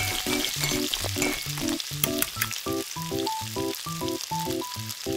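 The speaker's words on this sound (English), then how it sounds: "Pour in beef and stir fry." Beef stir-fried with oil, garlic and onion in a tiny miniature pan, a loud continuous sizzle heard close up, with a rhythmic cute musical tune playing over it throughout.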